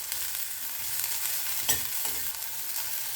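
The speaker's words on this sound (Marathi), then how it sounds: "हे अर्धे दाणे आपण भाजून घेऊया त्याला थोडेसे असे नरम होईस्तर आपल्याला भाजून घ्यायचे आहेत" Fresh pigeon pea seeds roasting in a little oil in a pan, a steady close hiss with a few soft stirring scrapes, no voices.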